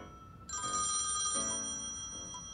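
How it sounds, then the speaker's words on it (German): A telephone rings in the video game Thimbleweed Park, a bright electronic bell trill that starts abruptly and holds steady, moderately loud with no talk over it. "Telefon!"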